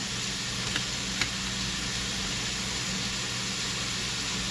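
Onions sizzling in a hot pan, a steady, even hiss of frying that holds the whole time with a couple of faint ticks and no talking.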